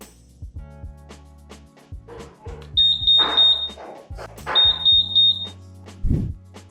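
The answer-back buzzer of a Honda ADV 160 scooter sounds in two short bursts of rapid, high-pitched chirping beeps, each about a second long, with quieter clicks and low tones between them.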